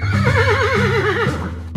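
A horse in the video game Yuppie Psycho gives a loud, wavering whinny that rises and trembles for over a second before breaking off, heard alone and up close.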